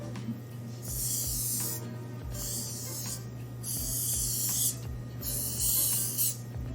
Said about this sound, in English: I'm gonna slightly spray some oil to make sure that we can release the ring easily later on